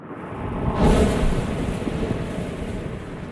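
Bags of plastic waste squeezed to imitate waves pounding on a shore, heard alone as a broad rushing swell that peaks early and then holds as a steady, roaring wash.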